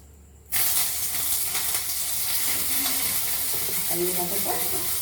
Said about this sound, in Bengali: একটু ভালো করে ভাজি।